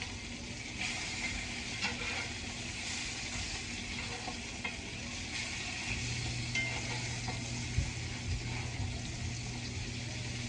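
Lamb patties sizzle steadily in hot oil in a pan, a dense continuous frying hiss at moderate level with a low hum underneath and occasional small pops and clinks, no talking.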